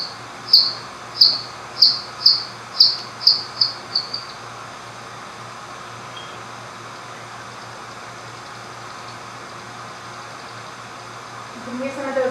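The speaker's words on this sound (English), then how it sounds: "comes back up, emits another drinking buzz just to check where everything is, and then makes more contact with water" Recorded bat echolocation calls, slowed for listening: a run of about nine evenly spaced, high chirps that speed up and fade into a drinking buzz over water. A faint steady hiss and a low murmur follow at the end.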